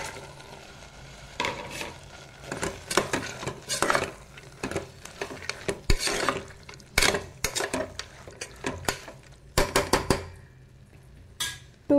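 Chickpeas and soybeans stirred into spiced masala in a pot while cooking one-pot rice, giving repeated scraping, clattering utensil strokes with a low sizzle, close and fairly quiet, no talking.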